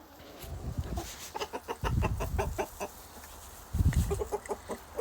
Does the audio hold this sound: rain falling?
no